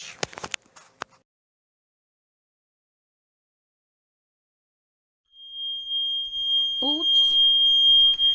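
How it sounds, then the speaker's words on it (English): Indoor smoke detector fire alarm going off. A few clicks and handling sounds come first, then several seconds of near silence. A piercing high-pitched alarm tone then sounds steadily and fairly loud, with a voice briefly heard beneath it. "this is all I hear. A fire alarm."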